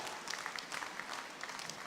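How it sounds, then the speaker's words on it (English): An audience at the 70th Indian Foundry Congress applauds the organising committee chairman, brisk continuous clapping from a crowded hall, steady and moderately loud throughout. "A big round of applause for our OC chairman"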